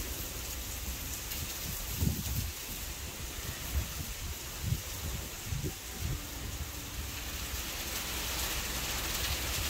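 Heavy rain falls with wind at a hillside house, a steady broadband hiss of downpour with gusty rumbles and occasional louder patter, no voices.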